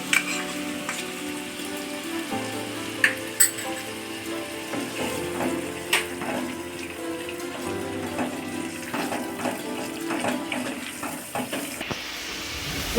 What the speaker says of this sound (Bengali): এবার আমি এতে দিয়ে দিচ্ছি আদা রসুনের পেস্ট।